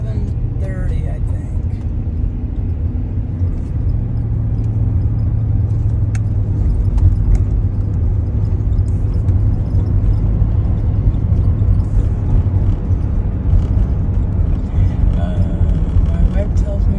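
A car driving on a road near a small home town, with steady engine and tyre rumble throughout, close and continuous, and no clear talk over it.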